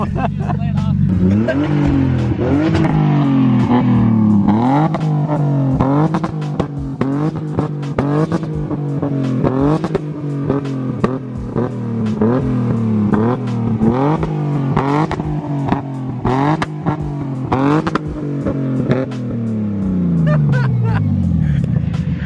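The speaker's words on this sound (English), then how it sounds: "Bro, we are drifting so fast, dude. That's some of the best donuts." A drifted BMW E46 M3 on new coilovers revs hard and repeatedly while doing donuts, its loud engine rising and falling in a fast cycle, with tire noise and excited voices talking over it.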